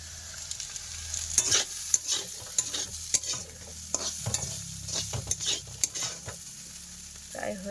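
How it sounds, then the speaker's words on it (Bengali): Carrot pieces frying in oil in a pan while a spatula stirs and scrapes them, giving irregular clattering strokes over a steady sizzle at close range. "গাজর ভাজা এই যে ভাজা হয়ে গেছে"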